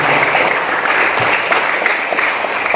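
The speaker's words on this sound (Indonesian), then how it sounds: "Tepuk tangan untuk kita semua." Students at a school gathering break into loud, sustained applause, a thick uniform wash of many hands clapping together without pause.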